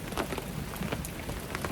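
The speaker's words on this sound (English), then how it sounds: "Got a little rainstorm going on." A rainstorm drumming on a camper at a Jekyll Island campsite, a continuous close patter of raindrops heard alone, with no speech.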